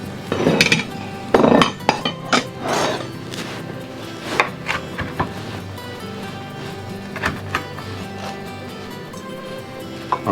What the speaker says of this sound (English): Why don't we chop this up,